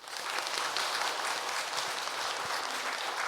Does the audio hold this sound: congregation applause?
yes